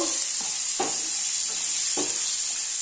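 A spoon stirs chopped onion frying in a pan for Bengali bhola fish jhal curry, with a steady bright sizzle throughout and three or four distinct scraping strokes spaced about a second apart.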